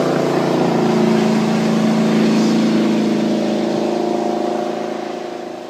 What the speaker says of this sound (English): Our speedboat firefighter makes 4 passes to ensure the fire is out.